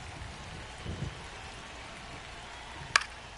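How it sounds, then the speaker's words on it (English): Steady rain falls on a night ballpark at Petco Park in the baseball game MLB The Show, a constant hiss of drops with a faint low rumble and one sharp tap near the end, no talking. "MLB The Show brings you baseball on a rainy night."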